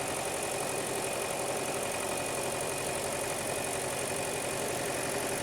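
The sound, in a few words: Hyundai Elantra engine running rough, shaking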